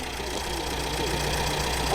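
Steady idle of a classic MGB Roadster engine just after starting, a continuous low rumble with a faint rhythmic knock, heard close and without pause.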